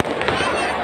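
Fireworks at a Dussehra festival where the Ravana effigy is burned, heard as a dense, loud, continuous crackle and boom of bursts filling the whole moment.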